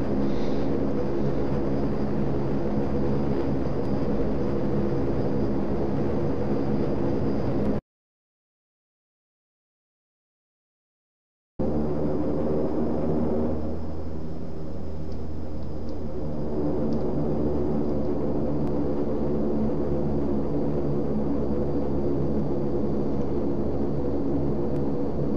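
Antonov An-24 turboprop engines run in a flight simulator, giving a steady, loud droning roar with a constant high whine. The roar cuts out abruptly for a few seconds, then resumes unchanged.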